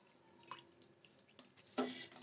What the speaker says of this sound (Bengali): এবার আমি ছানাটা জল দিয়ে ধুয়ে নেব।